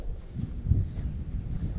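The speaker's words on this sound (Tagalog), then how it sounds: "ang ihip ng hangin malakas, kaya napakalamig dito ngayon sa park" Strong, cold wind blowing through an empty park, buffeting the microphone with a low, rumbling roar that swells and eases in gusts, with no voices.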